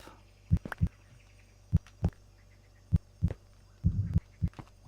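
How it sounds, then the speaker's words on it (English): Steady heartbeat sound effect in the Crystal Craze video game, a series of low, thudding beats in irregular pairs, moderately loud over a faint hum, with no talk. "But that heartbeat is picking up."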